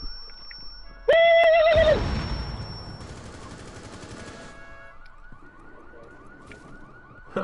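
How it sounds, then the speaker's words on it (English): A loud electronic car alarm wails in a rising warble with a sharp burst of noise, then fades to a quieter, repeating tone in the background. "Can you go turn my alarm off on my car, please?"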